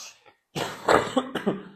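A single person coughs up close, a short harsh fit of several throaty bursts after a brief quiet moment.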